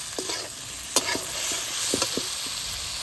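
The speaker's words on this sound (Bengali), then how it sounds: "ছোটো চামচে দেড় চামচ সমস্তটা আমি মিশিয়ে নেব" Cumin powder, turmeric and salt being stirred into a prawn curry in a sizzling pan, with a spoon knocking and scraping the metal a few times over a constant frying hiss.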